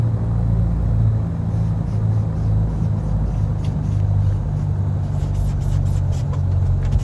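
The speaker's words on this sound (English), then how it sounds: "the sounds for the aircraft were actually recorded from a real-world PA28R" Engine of a Carenado Piper PA28R Arrow III in Microsoft Flight Simulator, recorded from a real PA28R, a loud, steady low rumble with a constant drone and no break.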